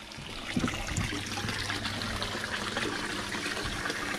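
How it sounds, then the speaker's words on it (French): Overflow water from an aquaponics tank runs out through a pipe, a continuous rushing trickle with steady gurgling and a low hum, fairly close and unbroken throughout. "l'eau, en fait, le trop-plein d'eau part par ce tuyau-là."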